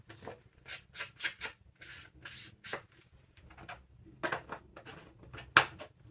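Victorian Velvet ink is rubbed lightly along paper edges, giving soft, uneven scrubbing strokes in short bursts with brief pauses. The sound is close but quiet.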